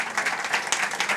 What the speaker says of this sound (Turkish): Kendisini alkışlarsanız.